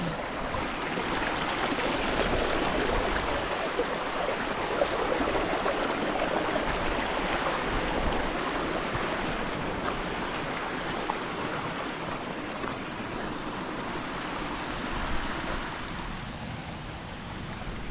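A mountain river rushes steadily beside a footpath on the corridor route up Scafell Pike, a loud, continuous broadband roar of flowing water with a little wind noise throughout.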